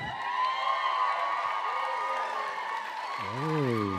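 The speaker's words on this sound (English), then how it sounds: "Oh, big crowd for Angel." Graduation ceremony audience cheering and clapping for a diploma recipient, a loud sustained crowd roar with whoops throughout, and a voice rising near the end.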